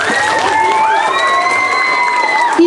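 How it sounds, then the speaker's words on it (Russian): Applause and cheering from an audience at a school arts festival for 4th to 6th graders, with shouted voices riding over steady clapping and crowd noise. "аплодисменты от зала"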